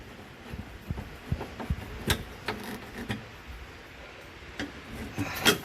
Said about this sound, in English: now I just putting this metal cover back on